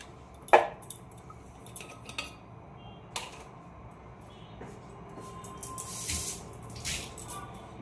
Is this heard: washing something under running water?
yes